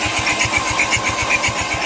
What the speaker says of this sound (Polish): Patrz, turbo się kręci, kochanie!